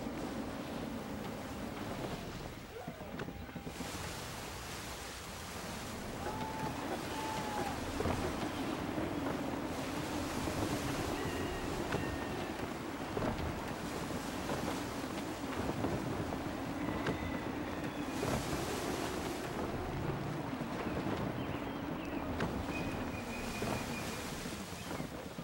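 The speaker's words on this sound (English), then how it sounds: "Gusty winds can be difficult to manage." Gusty wind roars steadily over surging ocean waves while a sailing ship cuts through the water in Assassin's Creed III, a continuous broadband rush with no voices.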